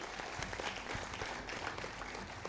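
A large audience claps steadily through a warm round of applause for the chief guest at a university function, with dense, even clapping at a fairly quiet level and no voices over it.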